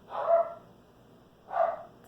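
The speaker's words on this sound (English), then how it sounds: "Sorry, that's my dog." A dog gives two short barks about a second apart, fairly close and clear against a quiet background.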